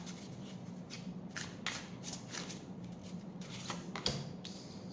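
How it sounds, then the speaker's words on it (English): Tarot cards shuffled by hand during a card reading, giving a series of soft papery riffles and flicks over about five seconds, moderately close against a steady low background hum. "Let me give it another shuffle."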